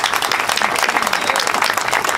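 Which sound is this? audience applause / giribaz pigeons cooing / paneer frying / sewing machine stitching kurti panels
audience applause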